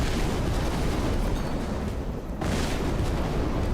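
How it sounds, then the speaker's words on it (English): A nuclear explosion goes off in the fantasy strategy game Age of Wonders 3, a loud, rumbling blast roar that holds steady, briefly dips, then surges again without a break. "this is a fantasy game involving nuclear explosions"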